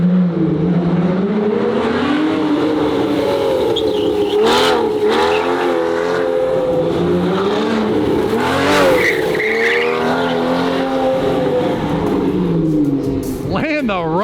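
A 1300-horsepower Gintani-built McLaren 720 GTR sliding sideways with traction control off, its engine roaring loudly and tires squealing steadily throughout, close and continuous, with people shouting over it.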